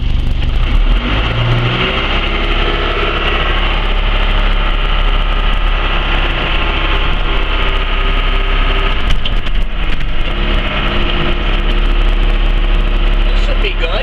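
A steady, loud diesel drone from an excavator engine idling, continuous and close for the whole stretch with little change in pitch.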